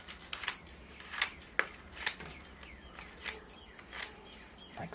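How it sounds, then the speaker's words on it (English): Sharp scissor snips cutting young maple roots that grew through a bonsai pot's drainage holes, about seven or eight crisp close cuts spaced unevenly over a few seconds against a quiet background. "I think I'm going to have to cut those away"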